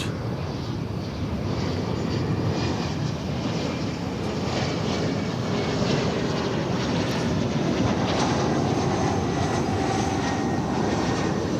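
An American Airlines jet takes off from runway 18 left at DFW Airport with a loud, continuous engine roar that fills the whole stretch and holds steady throughout, with no talk.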